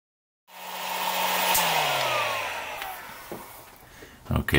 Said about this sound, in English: I'm just going to use the dryer here at a low heat